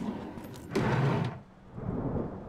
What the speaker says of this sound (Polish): Burza się jakaś zbiera ogromna.